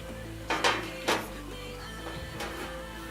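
A traditional Mediterranean Magnifica pan made in Spain is handled in a kitchen, giving a few sharp metallic clanks and knocks, close and fairly loud, with quiet pauses between them.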